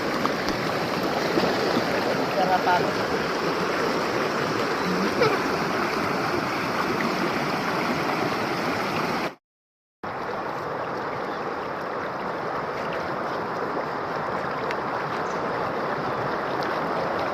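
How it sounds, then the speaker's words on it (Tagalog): A strong river current after a typhoon rushes in a dense, continuous wash of water noise, broken by one brief gap of silence partway through. "Lakas ng agos. Pero malinaw."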